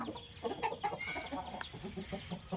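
A rooster worth several thousand rupees at a country-fowl breeder's farm clucks close by, a quick run of throaty, uneven clucks filling the short moment.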